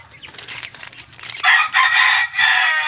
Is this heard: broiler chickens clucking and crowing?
yes